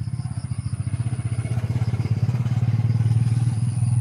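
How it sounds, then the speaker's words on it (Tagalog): Motorcycle passing close by, its engine putting out a fast, pulsing rumble that grows louder and steadier over several seconds, with no voices. "May motor na dumadaan dito."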